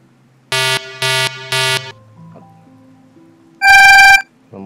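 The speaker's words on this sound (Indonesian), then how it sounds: "Kita akan cari alarm web free download." A downloadable alarm tone sounds as three loud, evenly spaced electronic beeps, then a stretch of quieter tones and a final long, bright, buzzing burst.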